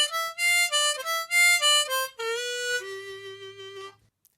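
A smooth blues harmonica riff with bent draw notes, alone and close, its phrase of rising and sliding tones settling into a long held low note at the end.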